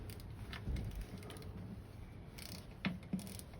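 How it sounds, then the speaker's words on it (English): A hand ratchet clicks faintly in a quiet shed during work on a BMW K1300S motorcycle, with soft scattered clicks and a couple of sharper knocks near the end. "Yeah, so I can hear some ratcheting."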